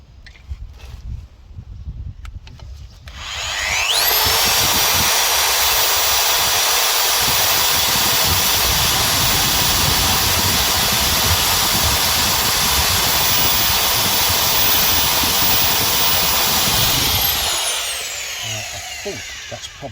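Power drill boring out a sheared-off bolt in a car wheel hub, starting after a few seconds and holding a loud, steady high whine close up for about fourteen seconds before winding down.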